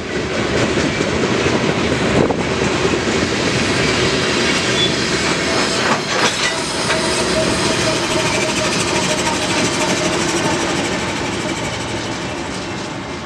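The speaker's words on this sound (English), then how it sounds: "at the end of the train, there was a roaring DPU" A passing freight train of grain hoppers rumbles steadily with a heavy roaring rear distributed-power locomotive and rolling wheel noise, fading slightly toward the end.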